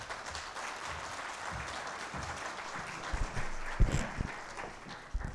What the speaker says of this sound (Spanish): Recibimos con un fuerte aplauso al doctor Pedro Salazar Ugarte.